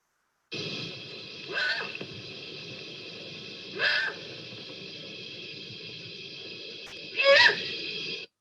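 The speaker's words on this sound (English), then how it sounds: "Here's a great horned owl, which we call GHO" A great horned owl gives three harsh, breathy squawks spaced a couple of seconds apart over a steady hiss of recording noise, the last call loudest.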